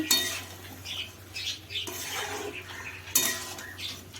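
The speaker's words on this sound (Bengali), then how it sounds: "দিয়ে দিচ্ছি ফেটিয়ে রাখা টক দই, আবারও নেড়ে নিচ্ছি।" A spoon scrapes and clinks against a pan as beaten yogurt is stirred into a paneer curry with fried vegetables, in a few uneven strokes over a faint steady background hum.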